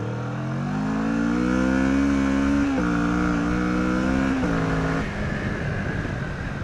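A motorcycle on mixed tyres pulls away on a gravel track, its engine rising steadily in pitch through the gears with two brief shift dips, loud and close, before easing off into rough rumbling.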